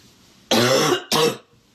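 A woman gives two harsh, barking coughs close up, the first longer and the second shorter, with a brief pause between them and quiet before and after.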